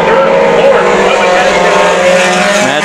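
Mini stock race cars, including a Pinto, roar around the oval at Havasu 95 Speedway late in a feature race, a loud continuous engine drone with a commentator talking over it.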